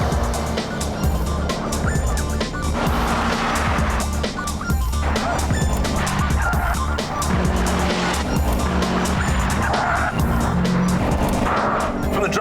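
A Subaru Impreza is driven hard with a loud, continuous engine note and repeated tyre squeal and skidding, close and dominant with no talk over it.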